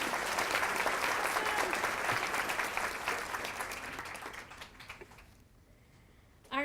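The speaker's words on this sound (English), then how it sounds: "So please give her a round of applause." An awards luncheon audience applauds a women's award winner with dense, close clapping that gradually thins and fades, then a sharp voiced sound cuts in at the very end.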